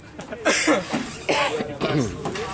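Several coughs and throaty bursts overlap in a lively room, mixed with chuckling and people talking nearby.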